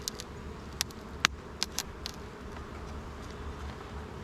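Honeybees at an open hive during a top-down inspection, a faint low hum with a few sharp buzzing passes of individual bees near the microphone in the first half.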